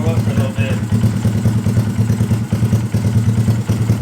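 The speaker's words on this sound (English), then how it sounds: "Just need to let the bike warm up for a little bit." A 2022 Honda Grom motorcycle engine with a high-compression piston idles steadily while warming up, a low, pulsing rumble and light mechanical clatter, close by and continuous throughout.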